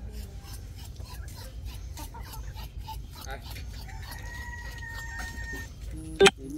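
Chickens cluck and chatter nearby with an occasional crow, while a person calls to them softly in the background, and a sharp bright squawk cuts through near the end.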